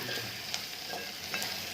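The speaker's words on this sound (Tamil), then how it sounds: "நெய்யும் ஊற்றி கொஞ்சமாக வெஜிடபிள் எண்ணெயும் ஊற்றி தாளிக்கிறேன்" Steady crackling sizzle of mustard seeds, curry leaves, urad dal and cashews frying in hot ghee and vegetable oil, with a few soft stirring clicks, close and continuous, no voices.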